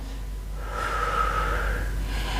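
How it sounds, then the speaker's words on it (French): Heavy breathing during a Pilates workout: one long, audible exhale that swells and holds steady for about two seconds, close and fairly loud, with nobody speaking. "On se donne encore une bonne respiration."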